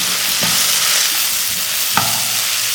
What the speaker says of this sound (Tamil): இந்த காய் வந்து அஞ்சு நிமிஷம் நல்லா வதக்கிக்கலாம்